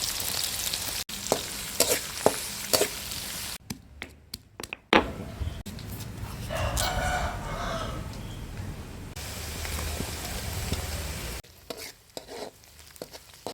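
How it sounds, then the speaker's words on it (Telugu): Onions and garlic frying in hot oil with urad dal, mustard seeds and cumin, a steady close sizzle with intermittent stirring and scraping clatter, alone without talk. "ఎర్రగడ్డ, తెల్లగడ్డ బాగా ఫ్రై అయిన తర్వాత"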